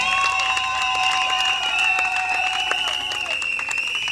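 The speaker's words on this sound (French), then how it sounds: "Applaudissez aussi pour les témoins" Wedding guests at a civil marriage ceremony applaud the witnesses, a crowd of claps running steadily under a sustained tonal drone.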